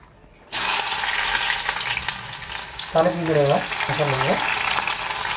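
Hot oil in a pan erupts into a loud, close sizzle as food drops in, then keeps crackling steadily. Two short warbling squeaks cut through partway.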